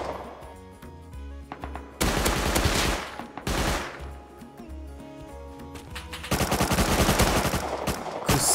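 Gunfire from the video game Rust sounds in sharp bursts: a few scattered shots, then two heavy volleys and a long rapid automatic stream at the end, loud and echoing over a low background hum.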